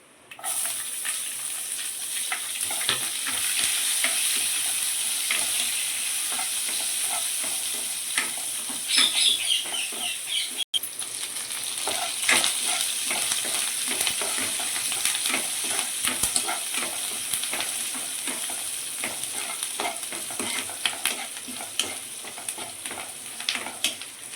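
Cumin and onions sauté in hot oil for a drumstick sambar, a continuous bright sizzle and crackle with the scrape of stirring and a brief pause partway through, close and loud, with no talking.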